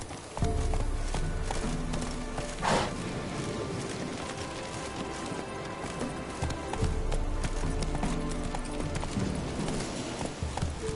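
Geralt's horse Roach gallops in The Witcher 3, a steady close clip-clop of hooves running on without pause over game ambience, with one brief louder burst partway through.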